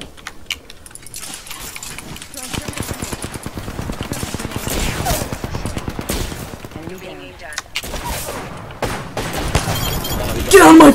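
Rapid automatic gunfire from the battle royale shooter Apex Legends, dense bursts of shots running nearly throughout, with a player talking excitedly over the fight.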